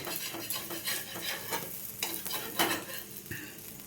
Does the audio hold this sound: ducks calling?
no